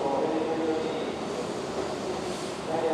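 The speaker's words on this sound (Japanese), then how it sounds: "4番線の電車は特急淀屋橋行きです。" A Keihan 8000 series limited express train rumbles steadily at Hirakatashi station, a broad, continuous rolling roar of railcars filling the platform with no voices heard.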